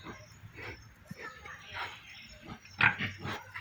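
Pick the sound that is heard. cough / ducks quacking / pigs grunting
pigs grunting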